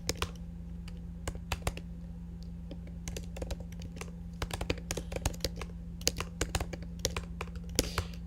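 Irregular bursts of crisp clicks from typing on a computer keyboard during a coding and documentation session, moderately close, with brief pauses between flurries over a steady low hum.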